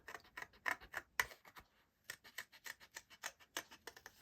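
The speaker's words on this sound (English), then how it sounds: "So what I'm going to do then is I'm going to cut out" Scissors snipping a butterfly image out of card in quick, crisp repeated cuts with brief pauses, close and clear, with no talk.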